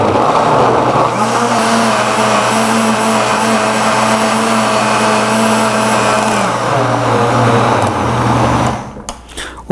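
A kitchen blender whirs loudly and steadily for several seconds while mixing a homemade enzyme drink sweetened with honey, then winds down and stops with a few clunks at the end.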